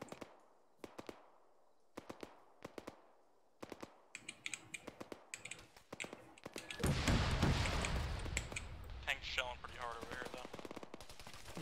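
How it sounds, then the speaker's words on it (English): Bursts of gunfire in a military shooter game: spaced single shots early, then dense automatic fire and booming impacts building loud and continuous, with distant crackle throughout. "it's shooting at the church right now"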